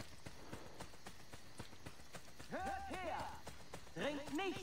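A horse gallops in Assassin's Creed Brotherhood, its hooves a quick, even clip-clop beat throughout, with other voiced game sounds joining toward the end.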